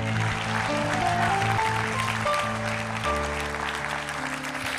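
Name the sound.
audience applause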